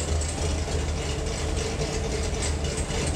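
A sixth-generation Chevrolet Camaro with upgraded heads and cam idles steadily with exhaust valves closed, a deep, low rumble and faint mechanical ticking, close up and unchanging, with no talking.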